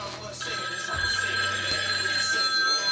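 A phone rings with a steady, repeating electronic tone, fairly quiet, with a low hum beneath it.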